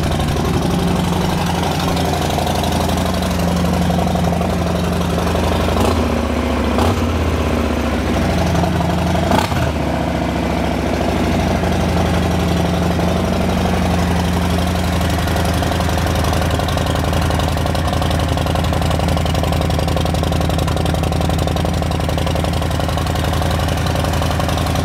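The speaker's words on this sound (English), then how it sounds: "Just needed to get the bike out for a little rev." A Harley motorcycle engine idles loudly and close with a deep, steady, lumpy thrum, rising briefly in a few revs before settling back to idle, with no talk.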